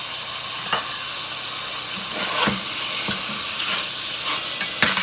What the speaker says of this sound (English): our conch to fry in this oil that we put